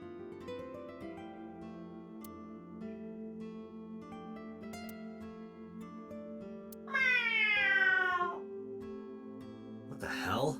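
A character in the video game AI: The Somnium Files imitates a cat's meow: one drawn-out, wavering meow voiced over steady background music, rising and falling before it fades, with a brief burst of noise near the end.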